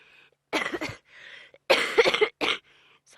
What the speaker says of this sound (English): All that excitement is giving me the cough.